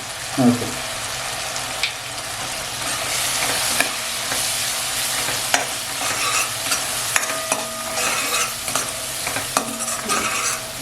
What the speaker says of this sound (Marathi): मसाले आपले छान असे मस्त असं परतवून झालेले आहेत